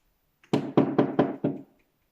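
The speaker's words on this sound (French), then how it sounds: "le loup alla frapper chez la petite oie" Five firm, evenly spaced knocks on a wooden door, close and clear, in a quick run with silence before and after.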